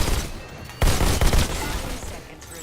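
Machine gun fire in the VR shooter Robo Recall, a dense rattling burst of gunfire that starts abruptly and keeps going loud and close, fading slightly toward the end.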